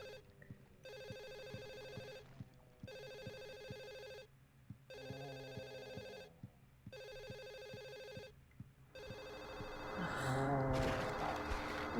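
A telephone rings repeatedly in Silent Hill 4: The Room's apartment world, five evenly spaced bursts of an electronic ring with short silences between, over a low pulsing game ambience that swells into a louder noisy rumble at the end.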